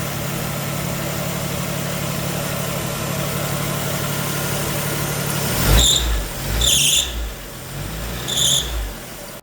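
A Jeep CJ engine idles with a low rumble, then its power steering belt lets out three sharp, high squeaks in quick succession near the end.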